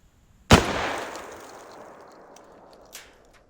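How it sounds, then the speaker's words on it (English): A single sharp, loud AR-12 shotgun blast fired at a cardboard target outdoors, with a long fading echo rolling away and a faint click about two seconds later. "I'm going to start by shooting the top left black dot that I put on my cardboard"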